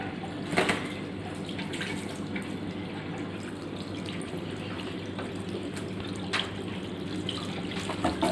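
Water splashes and trickles steadily while a baby parrot is bathed in cool water, a continuous close running-water sound with a few louder splashes throughout.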